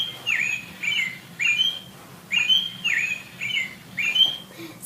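Stuffed toy robin giving a series of short electronic tweets and chirps, about seven bursts in a steady, repeating rhythm, close and fairly clear with no talking over them.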